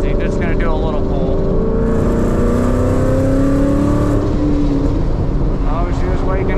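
A Mustang's engine pulls hard under a highway, with a loud, rising throaty drone that builds steadily for several seconds before easing off, close and continuous.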